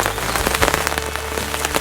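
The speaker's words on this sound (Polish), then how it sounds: "wpada sobie deszczyk" Light rain falls at a fishing spot during carp fishing, a close, steady patter of drops on surfaces with no voices.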